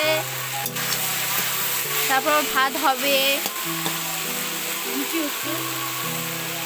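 Beans fry in a pan with a continuous loud sizzle and occasional stirring scrapes, while a person talks briefly over the cooking.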